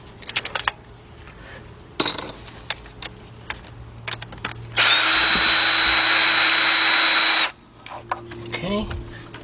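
A 16mm deep 3/8-drive socket turns a spark plug on a 2004 Nissan Maxima with a cylinder 6 misfire. Metal clinks come first, then a loud, steady power-tool whine of about three seconds, then more light tool clatter.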